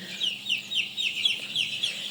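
Chicken on a poultry farm, an eleven-day-old Sonali bird that is stiff and unable to move well, giving a steady run of soft, repeated clucks and peeps, close and moderately loud, with no talking.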